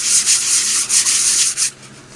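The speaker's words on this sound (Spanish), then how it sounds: "Y este es el proceso de lija." Fine sandpaper or a sanding sponge rubbing over the surface of a handmade pot, loud close scratchy strokes in a quick back-and-forth rhythm that stop near the end.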